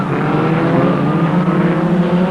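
Formula Ford 2000 race cars at Mondello Park in the 1982 European championship, engines droning loud and steady as they pass close by, a continuous high-pitched roar with no talk.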